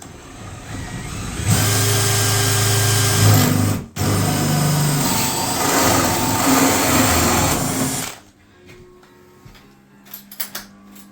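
A power drill drives a screw into a pilot hole during a bathroom refurbishment, a loud close whirring run of about six seconds with a brief dip midway, then quiet with a few light knocks.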